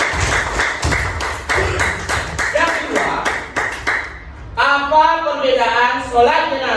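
A classroom of students claps in a quick rhythmic pattern during an Islamic funeral prayer lesson, sharp repeated claps for several seconds before stopping, followed by a voice.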